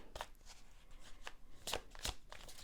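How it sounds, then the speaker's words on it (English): Tarot cards are shuffled by hand in a quiet indoor room, giving soft, quick riffling and slapping sounds in short irregular bursts, faint and close. "Thank you for your patience as I shuffle."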